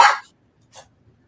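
Dogs bark during a broadcast segment about pets rescued from Afghanistan: one loud, sharp bark and then a fainter second bark close behind it.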